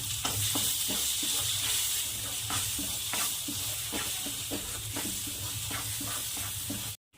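Coriander powder, Everest masala and asafoetida fry in hot oil in a pan with a close, steady sizzle, broken by regular scraping strokes of a spoon stirring the spices.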